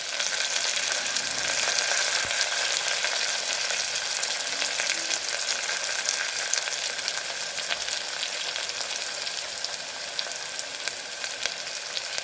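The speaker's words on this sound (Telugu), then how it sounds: "కొంచెంసేపు వేగాలండి. కొంచెం కరివేపాకు వేసుకుందామండి." Curry leaves and thinly sliced onions fry in hot oil for a Chettinad chicken gravy, producing a constant, fairly quiet close sizzle and crackle that runs evenly throughout without speech.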